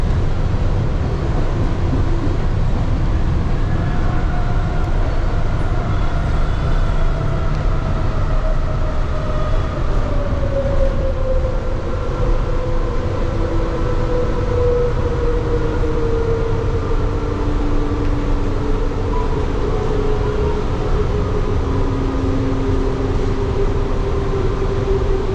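Steady loud rumble of a Kuala Lumpur monorail train in motion between KL Sentral and Titiwangsa, wheels and motor droning continuously while pitched tones slowly rise and fall.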